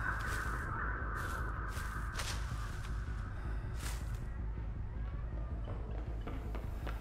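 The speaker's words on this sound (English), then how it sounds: "Birds went off, I know they're here." Crows cawing and flapping off in the Dead by Daylight swamp map Blackwater Swamp: several short, harsh caws cluster in the first few seconds over a steady, low ambient hum, then fade into the background drone.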